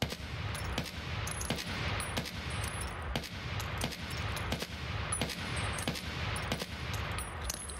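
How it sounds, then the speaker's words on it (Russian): AKM rifle fire in the video game Escape from Tarkov comes as a rapid, sustained string of loud shots at an even rhythm. It runs throughout with no speech. "прицеливаюсь и стреляю по синей точке"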